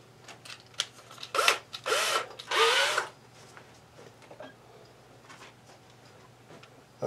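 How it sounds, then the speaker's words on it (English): Short bursts of a small electric drill with a tiny bit boring a hole, two louder whirring runs followed by faint ticks and handling noise, close up with no speech. "Let me get my drill and a little tiny drill bit."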